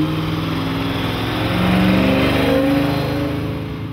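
A 1969 Maserati Ghibli 5000 SS with a 4.9-litre, 335 PS V8 revs up: a steady, throaty engine note climbs in pitch and loudness midway, then eases back down, with no voices.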